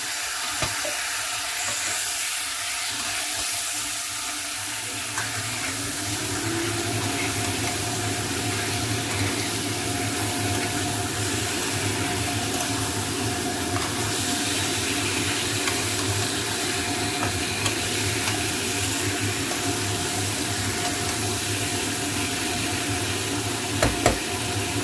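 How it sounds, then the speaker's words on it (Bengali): Ginger paste in a pan with a splash of water added, a continuous loud hiss and bubbling sizzle that grows fuller after the first few seconds and carries on steadily, close by, no speech. "আদা বাটা দিয়ে আমি সামান্য একটু জল দেব"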